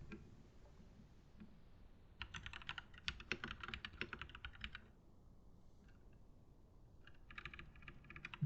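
Rapid clicking keystrokes on a computer keyboard, with bursts of fast typing separated by short pauses, heard close and alone over a low background hum.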